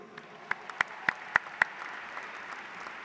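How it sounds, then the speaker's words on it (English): Scattered applause at an IE graduation ceremony: a few distinct, sharp claps in a sparse rhythm stand out over a low murmur, then fade away. "can we give them a round of applause, please?"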